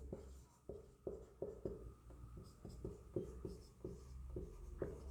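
Chalk or marker strokes on a board during a history lecture come as a faint, steady series of about a dozen short taps and scrapes, evenly spaced, with no speech over them.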